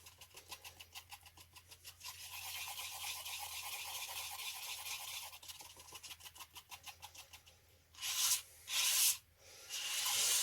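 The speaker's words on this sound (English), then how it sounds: "So I'm actually going to pick this up now and mix really vigorously." A stirring stick is worked fast and hard through a cup of jesmonite for terrazzo chips, a steady rapid scraping churn that runs continuously, then breaks into a few heavier scrapes and pauses, close up.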